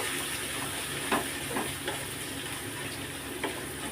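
Kashmiri chilli powder and turmeric powder sizzle in hot oil in a pan while being stirred, a steady broad hiss with a few soft scraping strokes, close and fairly quiet, with no talking.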